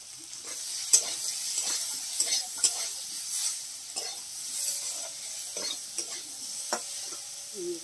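Spice masala with chili powder stir-fried in a pan for a tilapia and green banana curry: a soft, continuous sizzle broken by repeated scraping stirs of a spatula against the pan, close and steady, without talk.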